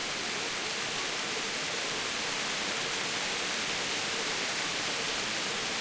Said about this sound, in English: it's like throwing it down with rain